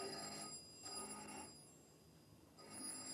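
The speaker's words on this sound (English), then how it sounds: "Oh, crikey, the phone." An old telephone bell rings in two bursts with a pause between, quite faint and alone in the quiet, in a 1952 radio drama setting.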